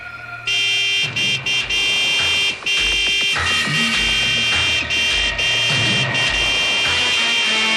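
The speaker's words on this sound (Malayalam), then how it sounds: "നീ ഹോൺ അടിച്ച് വണ്ടി വിട്" A car horn honks in a series of sharp bursts, loud and up close. The blasts come in stuttering repeated pulses, with short gaps between some of them.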